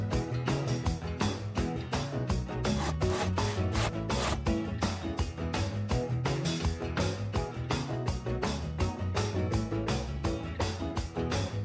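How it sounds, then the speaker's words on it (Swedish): Decking boards are hand-sawn into roughly 40 cm spacer blocks, giving a steady back-and-forth rasping with evenly repeated strokes, close and clear, with no talking. "Kapa till 4 cirka 40 cm långa distansklossar av trallvirket."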